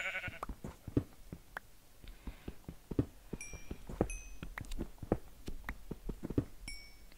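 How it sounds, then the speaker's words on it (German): Sheep bleat in the video game Minecraft during an underground mining session, several short bleats scattered among rapid clicking and tapping game sounds at moderate loudness. "Geh weg, Schaf."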